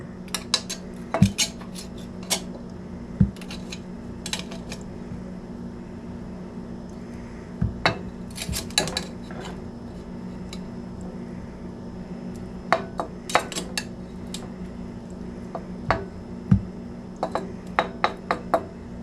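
Potatoes and carrots served out of a pot of steamed ham with metal utensils, a long stretch of scattered clinks, scrapes and taps against the pot and dishes, close up over a steady low hum.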